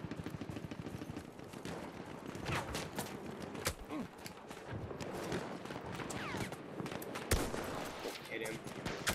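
Battlefield 1 gunfire, scattered shots and short bursts cracking at varying distances throughout, some sharp and close, over a busy background of battle noise and faint voices.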